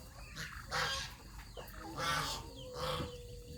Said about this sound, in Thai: นู่นเสียงหาน